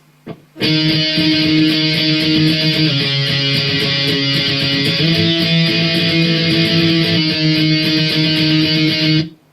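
A distorted electric guitar plays a chugging octave riff, loud and continuous for several seconds before stopping abruptly.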